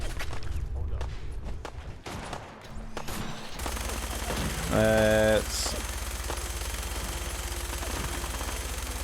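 Fallout 4 gameplay with a minigun firing a sustained, loud rattling stream of gunfire that rolls on continuously after a quieter stretch with scattered shots, along with other in-game effects.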